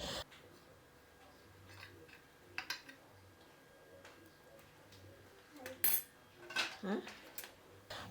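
Flours and salt mixed together in a bowl as a coating for Nile perch, giving light scattered clinks and scrapes of a utensil, faint and sparse with a few sharper knocks near the end.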